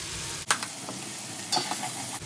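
Chopped onion with salt and pepper sizzles in half a stick of melted butter in a pot over medium-high heat, a steady close hiss with a few spoon scrapes and taps; no talking.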